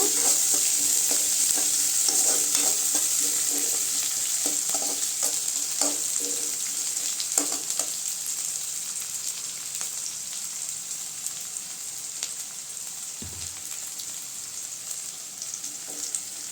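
Onions sauté in a pan for a yellow pumpkin stir-fry, a steady crackling sizzle broken by repeated scraping stirs near the start, fading slightly toward the end.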